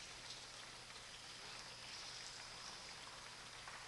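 Rain falls on the ground in a soft, even hiss of patter that stays faint and constant throughout, with no other sounds on top.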